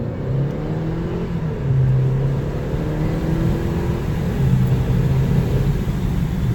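Mercedes CL250 accelerating hard from a dead stop to 60 mph, a steady engine drone with tones climbing and resetting through gear changes, heard from inside the car.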